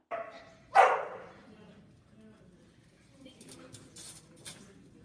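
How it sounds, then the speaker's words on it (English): A dog gives one sharp, loud bark near the start, followed by quieter rustling and faint clattering noises in the background. "Right there, that's the first bark."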